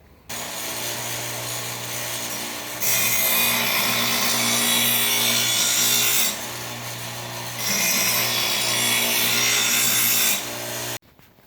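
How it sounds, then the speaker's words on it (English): A lawn edger blade being sharpened with a grinder, a steady abrasive rasping that swells louder in two long stretches over a constant low hum, continuous and close with no talking. "I like to use a grinder, but you can also sharpen the blade using an angle grinder, or you can simply use a good file."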